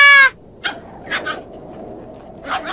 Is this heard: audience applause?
no